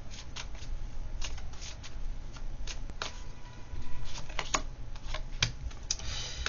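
Tarot cards are shuffled and drawn by hand, a close run of rapid papery riffles and sharp flicks in uneven bursts, with no talking.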